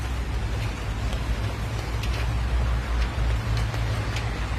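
A continuous downpour in a forest, close and constant, with a dense hiss of rain and a low rumble underneath, and scattered sharper drips standing out now and then.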